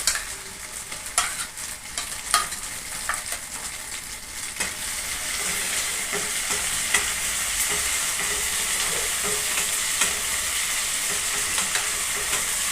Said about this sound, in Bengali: এবার দেবো আমি রসুন বাটা।